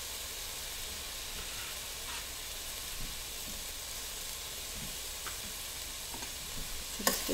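Chard with its stems sauteing in a pan, a soft, steady sizzle and hiss with scattered crackles and occasional stirring scrapes, faint and close, ending in a sharper clack.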